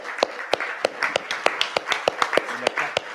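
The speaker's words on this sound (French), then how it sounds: "On vous applaudit bien fort." Audience clapping at a business event held at a business school in Sophia Antipolis: sparse, distinct claps spaced at a loose, uneven rhythm, fairly close, with a faint voice briefly underneath.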